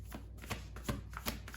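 Affirmation cards are shuffled by hand in a steady series of crisp riffling snaps, close and clear with no voices over them.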